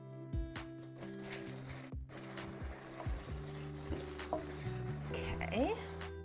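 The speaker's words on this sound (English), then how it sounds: "Oh yeah, we are bubbling away." Food bubbling and sizzling in a pan during home cooking of caramelized onion pasta, a steady frying crackle with stirring scrapes under a voice and low background music.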